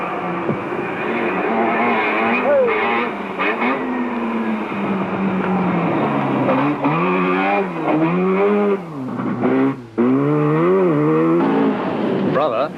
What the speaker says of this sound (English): Briscoe has a dramatic style and throws the tiny Mazda about vigorously.